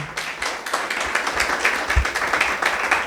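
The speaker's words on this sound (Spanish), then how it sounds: "Denle un aplauso al Señor" A church congregation claps together in a dense, steady patter of hands that keeps going from start to finish, with a few stronger beats rising out of the sound.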